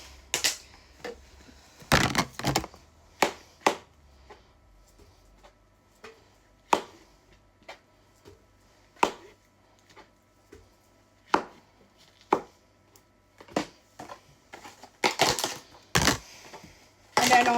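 Mushrooms are chopped with a knife on a board in a quiet kitchen: crisp, close, separate chops at an uneven pace, spaced out at first and then coming in quicker bursts, with nothing else heard between them.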